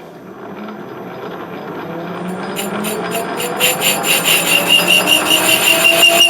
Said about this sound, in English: I'm going to reach around and use this back edge to chamfer that back edge.